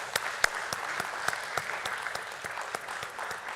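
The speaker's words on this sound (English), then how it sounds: "Let's keep clapping for the team." An audience at the stock exchange listing ceremony of Muthoot Microfin Limited at BSE keeps up lively applause, a busy patter of many hands with a few sharper, closer claps punching through.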